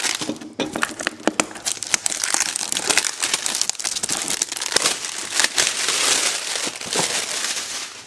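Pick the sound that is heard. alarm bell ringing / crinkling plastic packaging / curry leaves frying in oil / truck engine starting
crinkling plastic packaging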